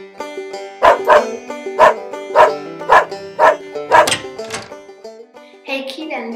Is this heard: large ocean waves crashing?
no